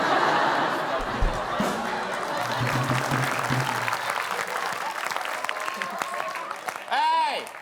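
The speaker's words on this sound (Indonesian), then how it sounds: "kalian jangan tepuk tangan dulu" Studio audience applause during an Indonesian television comedy show: steady, dense clapping fills the whole stretch, with scattered laughter mixed in and a voice rising briefly near the end.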